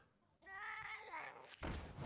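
A short cat meow from the Grow Cat card in the Hearthstone video game, a single rising and falling call lasting about a second, followed by a burst of game noise.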